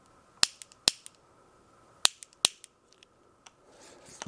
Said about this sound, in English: First, why don't we try shooting a cork? Put the cork in the end of the gun barrel.